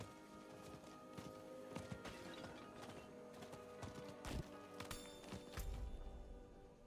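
Hooves of a galloping horse in the Diablo 4 desert pound in a quick steady rhythm, moderately close, with a few heavier thuds near the end and no talking.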